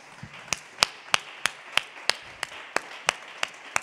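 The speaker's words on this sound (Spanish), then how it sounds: "¿Puedes darle un aplauso a Él?" A church congregation claps together in an even, rhythmic beat, each crisp clap landing about three times a second, close and distinct against a quiet room.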